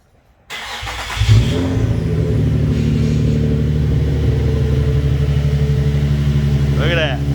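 A Nissan 350Z with a swapped JDM engine cranks and fires, then settles into a steady, loud idle that rumbles close by. A voice speaks briefly near the end.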